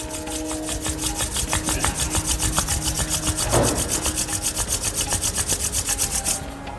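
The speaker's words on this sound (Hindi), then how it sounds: "हाथों को रब करेंगे।" Hands rub briskly together in a fast, even back-and-forth rasp, close and continuous, with no voices.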